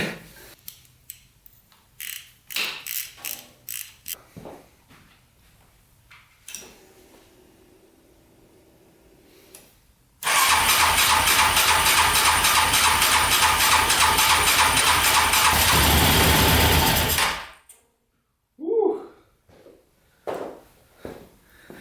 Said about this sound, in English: She fired up for a brief second.